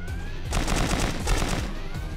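Gunfire in a war video game set in China during the war against Japan, heard as a rapid burst of repeated shots that runs for about a second and a half over a constant background.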